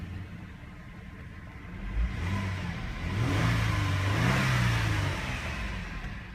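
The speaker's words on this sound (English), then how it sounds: "Engine is running perfectly." A 2007 Suzuki Vitara XL7 engine runs steadily at a salvage yard, its low hum rising as the motor revs up and holds a fuller note before easing slightly, close and alone.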